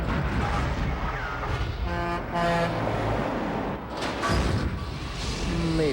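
Truck sound effect with loud horn toots and heavy engine roar, repeated honks over rumbling traffic noise, close and busy, with a sharp blast partway through.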